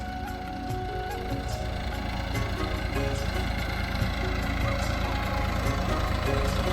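A tractor engine runs steadily nearby, a continuous low rumbling drone with a faint knocking rhythm and no other sounds.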